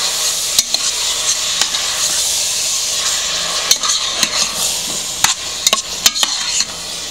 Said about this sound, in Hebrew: יש לי כאן כ-4 עגבניות שחתכתי לקוביות, אני מוסיפה וישר מערבבת, חייבים.